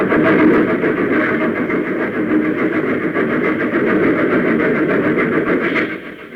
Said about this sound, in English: the engine rushed into the funnel, and one by one the cars followed